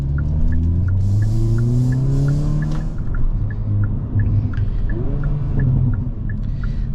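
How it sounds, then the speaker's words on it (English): A 2022 Hyundai Kona N with an 8-speed dual-clutch transmission blips its engine on downshifts, rising and falling revs heard from the driver's seat over steady road rumble and a faint repeating ticking. "Downshifting is seriously so much fun in this Kona."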